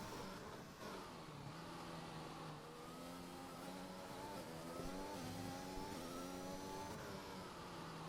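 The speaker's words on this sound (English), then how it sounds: "That is a Mercedes coming around now." A Mercedes Formula 1 car engine in an F1 video game at the Hungary circuit whines at high revs, its rising and shifting tones swelling as it passes, with no one speaking.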